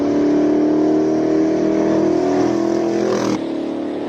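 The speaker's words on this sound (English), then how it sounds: "Enzo with the Ferrari 348 Challenge." Ferrari 348 Challenge race car at a Cape Town hill climb, its engine holding a loud, steady high-revving drone close by before the tone abruptly drops as the car pulls away, no voices over it.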